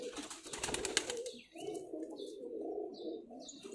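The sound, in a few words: pigeons cooing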